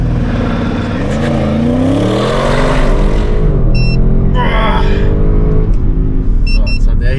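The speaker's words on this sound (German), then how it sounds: "So, 0 auf 100 mit der Abt Power 700 PS Stufe," An Audi RS6 tuned by Abt to 700 PS launches from standstill to 100 km/h under launch control. The engine roars loudly and climbs through rising revs, with brief shift breaks and a continuous rumble, and no talking.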